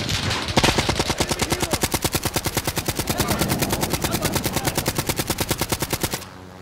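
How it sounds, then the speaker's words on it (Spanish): A helicopter circles overhead in a shooter video game, its rotor chopping in a rapid, steady, loud rhythm that holds evenly for several seconds before cutting off abruptly. "otro helicóptero dando vuelta ahí"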